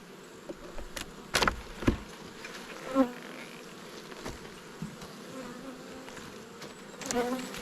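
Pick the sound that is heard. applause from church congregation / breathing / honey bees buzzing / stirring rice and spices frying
honey bees buzzing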